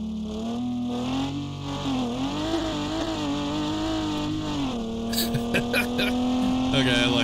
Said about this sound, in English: Let's go and roast these tires